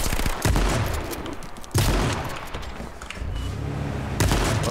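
Gunfire rings out in H1Z1, with sharp bursts of rapid shots in a few clusters, loud and close, some trailing off into echoing rumble.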